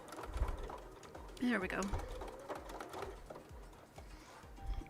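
Sewing machine back stitching over vinyl, a rapid mechanical stitching rhythm running close and steady under a brief spoken remark.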